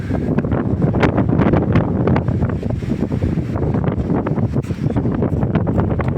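Strong wind on the seafront at Senj, Croatia, roars and buffets the microphone continuously, with a dense, gusty rush and no voices.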